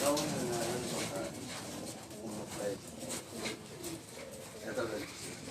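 Pigeons, racing flyers, coo repeatedly inside a loft, with soft warbling calls rising and falling close by while someone talks over them.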